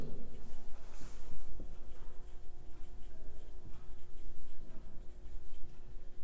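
Maths is written on a board in steady scratchy strokes, a continuous close scribbling over a low background hum.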